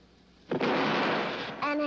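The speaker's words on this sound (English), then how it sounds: "An explosion." A sound-effect explosion bursts in suddenly after a quiet half second, loud and broadband, then holds as a rumbling roar that slowly fades, with a brief voice-like tone at the very end.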